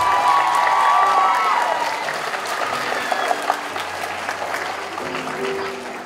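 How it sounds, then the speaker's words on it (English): A middle school choral concert audience claps for the adult volunteer musicians, with a few cheers mixed into the applause, which is loud at first and then tapers while faint chatter and a brief voice come through. "Let's give them a round of applause."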